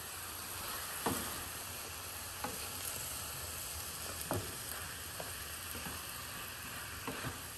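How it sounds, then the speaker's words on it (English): Shredded red cabbage fries in a pan with a soft, continuous sizzle while red chili powder is stirred in, and a spoon scrapes and knocks at intervals. "We are going to mix the red chili powder so that it gets into everything."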